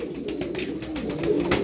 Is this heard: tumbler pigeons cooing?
yes